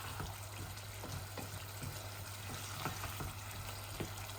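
Potatoes fry with achari masala in a pan for a tilapia curry, giving a soft, steady sizzle marked by regular scraping strokes as they are stirred. The sound is close and fairly quiet, with no talk.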